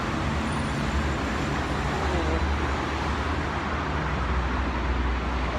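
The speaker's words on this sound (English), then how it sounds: "The heavy traffic and you can't find the routes properly." Heavy road traffic on a busy Dubai street, a dense and steady roar of cars, buses and trucks with a constant low rumble throughout, close by and without letup.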